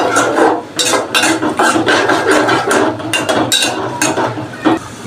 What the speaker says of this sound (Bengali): কিউব করে কাটা পেঁয়াজ, এখন একটু নেড়ে চেড়ে নিচ্ছি।